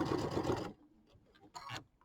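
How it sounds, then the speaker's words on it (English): A sewing machine runs a 1/4 inch seam with a J foot on a piecing stitch for a quilt, a short burst of rapid stitching, a pause with faint handling sounds, then a second brief run. "Still doing my 1/4 inch seam with the J foot and the piecing stitch."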